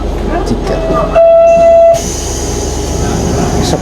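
A train moves through a station in Japan with a loud rumbling roar, a long tonal squeal or horn-like whine partway through, and a high electrical hum, with someone talking over it.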